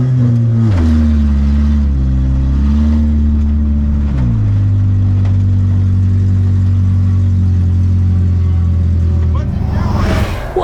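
A race car being started for an enduro race and sputtering, with a loud engine running at a steady mid-range rumble that steps down in pitch partway through, briefly revs up near the end, and then cuts out, while people talk.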